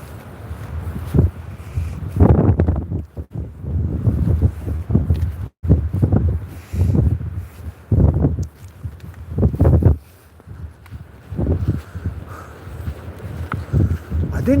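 Strong wind gusts buffet the microphone along the beach promenade at Withernsea, a rough, uneven roar that swells and drops under intermittent talking.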